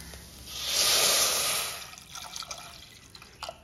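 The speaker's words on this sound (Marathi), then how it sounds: "आणि त्याच्यात पाणी घालायचं।" Water poured from a vessel into a pot of boiled, mashed potato makes a steady close splash that swells and fades over about a second and a half, then trails off into light drips and small clinks.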